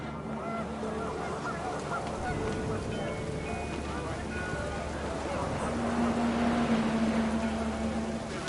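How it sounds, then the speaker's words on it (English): Geese honking in a panic in the video game What Remains of Edith Finch, a cluster of honks sounding over a steady wind-like background, growing louder and more insistent in the later part. "The wind picked up, and panicked geese appeared and quickly went"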